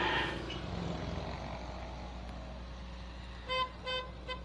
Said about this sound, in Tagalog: Ah, may busina.